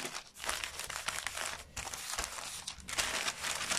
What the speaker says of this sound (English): Starting to take that out of the carpet now and lift it into the paper.